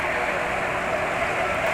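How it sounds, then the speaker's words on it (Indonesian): An automatic scooter engine idles on Motul GP Matic 10W40 oil, giving a smooth, even, steady hum with no talking over it. "Suara mesin sebenarnya nggak begitu kasar ya"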